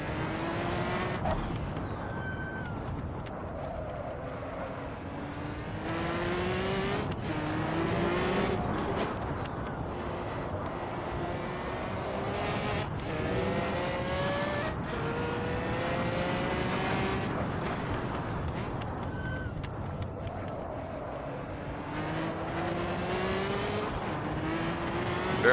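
Porsche 917/30 race car in the Assetto Corsa racing game, its engine revving loudly through repeated upshifts and rising sweeps over a steady roar, with occasional tire squeal, sustained throughout.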